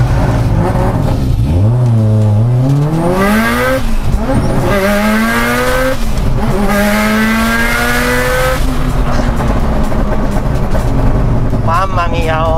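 Car engine revving hard under throttle, one of the turbocharged or naturally aspirated engines being compared, with rising and falling pitch sweeps that build and repeat, loud and close throughout.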